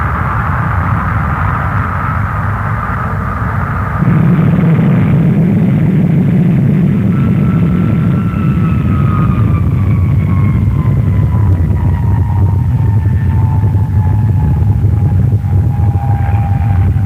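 A jet bomber with four engines totalling 70,000 pounds of thrust climbs almost vertically at the Farnborough air show, a loud steady roar with a rising, drifting whine sustained throughout.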